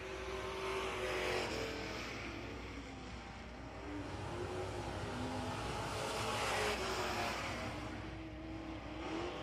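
Race cars lap Dixieland Speedway, their engines droning steadily at a distance and swelling and fading as the cars circle the track, with no one talking over them.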